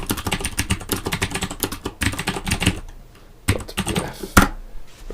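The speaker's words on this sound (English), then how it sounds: "I'm going to have to type it in manually." Rapid, uneven keystrokes on a computer keyboard, entered by hand while blocking out a Team Fortress 2 map, come in close bursts with short pauses and a brief silence in between.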